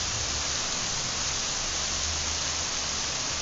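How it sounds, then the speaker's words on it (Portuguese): Heavy rain in Mauá, Brazil, a dense unbroken hiss of falling water that stays loud and even throughout, with no voices. "Chovendo muito, tudo."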